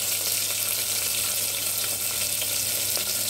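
Sliced onions with curry leaves, salt and turmeric fry in a pan, giving a constant broad hissing sizzle with faint intermittent stirring ticks, close and even throughout.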